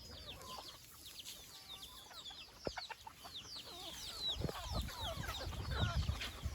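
Backyard chickens with coryza cluck repeatedly nearby, a busy overlapping chorus of short calls over faint background noise.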